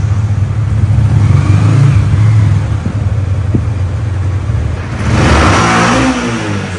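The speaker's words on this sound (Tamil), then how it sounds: "பைக் ஸ்டார்டிங் ஆயி சேஃபா நிப்பாட்டியாச்சு." A Jarvis motorcycle engine runs loud and close, with a steady mid-pitched idle that swells into a stronger rev near the end.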